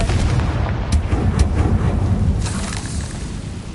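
Confringo spell blasts in Hogwarts Legacy, a dense roaring explosion with several sharp crackling bursts over a steady rumble, loud and close throughout.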